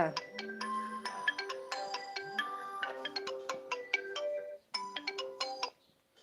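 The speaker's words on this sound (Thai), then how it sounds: "อ่ะโทรศัพท์มา" A phone ringtone plays a bright, repeating electronic melody of rapid notes, loud and close, pausing briefly before resuming and cutting off near the end.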